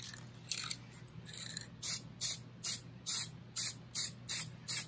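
Lacquer sprayed onto wooden furniture during restoration, a series of eight or so short hissing bursts in a steady rhythm, close and clear, after some softer spraying and handling at the start.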